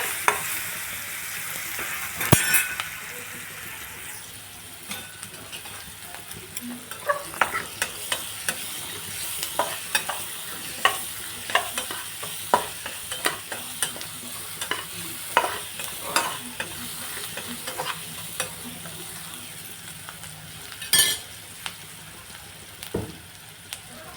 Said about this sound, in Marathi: हळद, कांदा चांगला फ्राय होऊन देऊ.